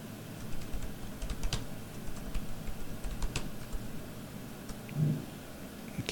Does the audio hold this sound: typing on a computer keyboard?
yes